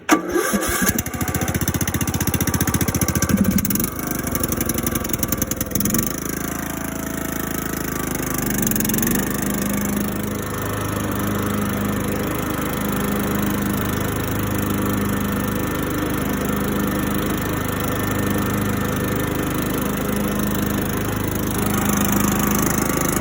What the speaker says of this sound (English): start the tractor up and see if we got